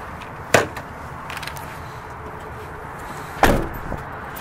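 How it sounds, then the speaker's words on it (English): Two sharp metallic clunks of the driver door of a Jayco Melbourne 24L motorhome several seconds apart, close by, against a quiet outdoor background. "You have to open up your driver door."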